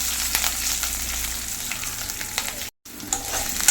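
Slit green chillies, ginger and garlic frying in a pan for horse gram curry, giving a loud, close, continuous sizzle with light stirring, briefly cut to silence near the end before resuming.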